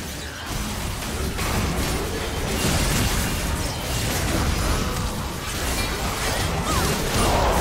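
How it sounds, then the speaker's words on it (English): A turret collapsing in League of Legends, a sustained loud crashing rumble of debris and impact noise running the whole length, with whooshing bursts layered over a dense low roar. "Red team's turret has been destroyed."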